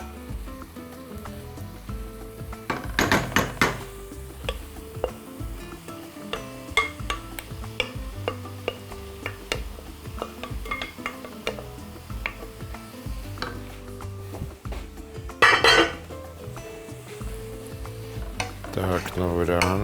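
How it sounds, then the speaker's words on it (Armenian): Cabbage and onion frying together in a pan for bigos, with a steady soft sizzle broken by clattering stirs and scrapes of a utensil against the pan, close and moderately loud, with no talking. "Տակնու վրա անենք, թողնենք թող տապակվեն, զրուցեն միմյանց հետ, կաղամբը և սոխը"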